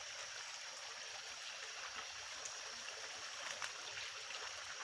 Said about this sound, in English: this is our oldest river that we have to fetch water here